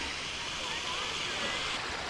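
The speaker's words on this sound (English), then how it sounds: "This is the creek much further down." Creek water flowing steadily in a park in Truro, Nova Scotia, a continuous broad rushing wash with no pauses, moderately close and alone.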